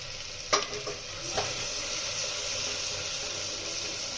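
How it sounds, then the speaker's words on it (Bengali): Ginger-garlic paste frying with ground cumin and coriander in a pan, giving a steady soft sizzle with a few brief stirring clinks near the start, close and fairly quiet, with no talk. "রসুনের পেস্টটা ভাজা ভাজা করে নিয়েছি, জিরে গুঁড়ো আর ধনে গুঁড়ো।"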